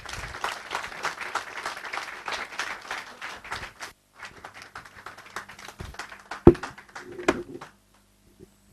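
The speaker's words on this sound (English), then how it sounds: "So please welcome Amrita with a big round of applause." Audience applause welcoming a speaker in a lecture hall, dense clapping from a moderate crowd that breaks briefly, resumes more sparsely, and trails off into a few last claps and faint sounds.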